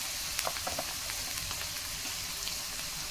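Spice pastes of ginger, garlic and cumin sizzling in a frying pan with oil for a home-style chicken curry, a faint continuous hiss with a few soft stirring taps early on.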